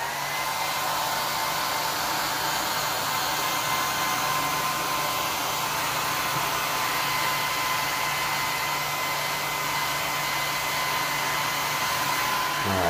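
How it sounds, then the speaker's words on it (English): A hair dryer blows steadily on a pet chicken after her bath, a continuous loud whooshing drone that holds even throughout with no pauses. "how about we just give you a little bit more of the blow dryer"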